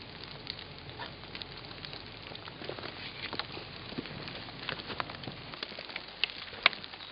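Light rain patters and ticks outdoors during plein air painting beside a tree, a faint, steady scatter of small drops with occasional sharper taps.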